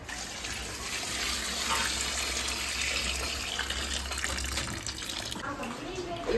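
Tap water runs steadily into a sink while raw mutton is rinsed at home, a continuous close gushing wash that lasts throughout, with a voice faintly under it.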